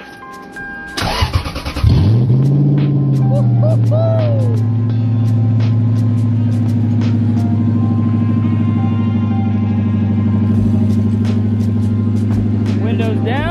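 Lexus LS400 engine cranks and catches near the start, then settles into a steady, loud idle rumble that continues throughout the test-drive startup, with brief higher tones over it.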